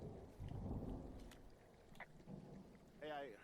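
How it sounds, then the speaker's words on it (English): Faint, distant thunder rolls in Firewatch, a low soft rumble early on followed by quieter crackles, with a brief voice near the end. "Hey, I heard some thunder."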